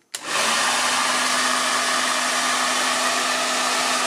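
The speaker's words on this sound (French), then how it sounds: "Et là je vais y connecter un sèche-cheveux." A hair dryer powered through an EcoFlow Stream AC Pro and Ultra battery station switches on at about 1000 watts and runs as a steady, loud, close whooshing roar with a faint tonal hum.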